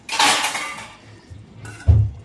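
A lid is set on a clay pot of fish curry, giving a bright clink and scrape followed by one dull, low knock as it settles. The sounds are close and brief, with no talking.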